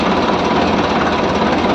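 Tractor engine running continuously, a loud, dense, steady rumble with a knocking, chugging texture and no pauses.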